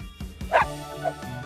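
A dog, likely an animated cartoon dog in a children's show, gives a few short, soft woofs, fairly close and fairly quiet.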